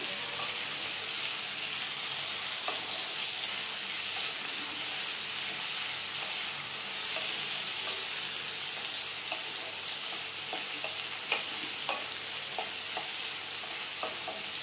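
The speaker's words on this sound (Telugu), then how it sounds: "ఇలా బాగా కలిపి సిమ్లో పెట్టి అయితే ఒక 10 or 15 minutes ఫ్రై అవనివ్వాలండి" Eggplant pieces frying gently in oil in a pan on low heat for vankaya fry, a steady soft hiss and crackle with scattered small pops, close and even throughout, no talk.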